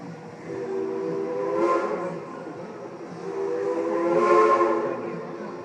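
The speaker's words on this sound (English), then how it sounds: "Those 2 whistles you just heard tells us that the engineer has received the all clear" A steam train whistle sounds twice, two sustained harmonic blasts a couple of seconds apart over a steady rumbling background.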